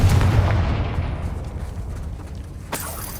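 A Confringo fire spell blast in the Hogwarts Legacy video game, a heavy, deep boom at the start that rolls away gradually, followed by a sharper second burst near the end.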